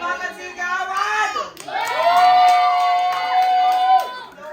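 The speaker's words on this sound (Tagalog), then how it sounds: "Palakpakan sigawan!" Party guests at a birthday celebration cheering and shouting together, a loud, continuous crowd roar with high whoops and children's voices, clapping blended underneath.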